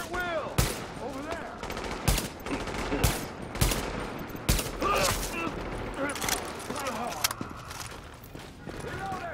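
Bursts of gunfire from a Tom Clancy's The Division firefight, sharp repeated shots and short automatic volleys ringing out at irregular intervals over several seconds, loud and close, with a voice talking between them.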